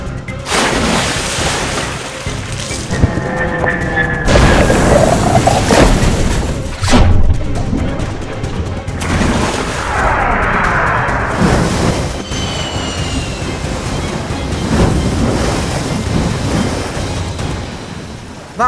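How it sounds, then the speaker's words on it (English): B-52 bomber struck by a missile over enemy land in a video game, crashing with loud sustained rumbling, roaring and breaking-up noise, surges and crashes throughout, with no talk. "Oh, a missile! The B-52 loses control."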